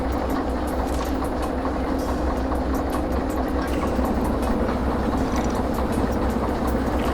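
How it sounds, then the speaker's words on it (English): A locomotive in the Derail Valley train game works to build brake pipe pressure, a steady, continuous engine drone and mechanical rumble that stays loud and even throughout. "the locomotive working a little bit to create the pressure in these brake pipes."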